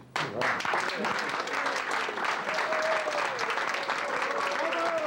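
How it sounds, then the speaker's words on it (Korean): Warm, continuous audience applause greeting a Taekwondo grandmaster at an event in the United States, a full room clapping steadily with a narrator's voice running over it. "미국을 대표하는 각계 인사들이 그를 열렬한 박수로 환영했다."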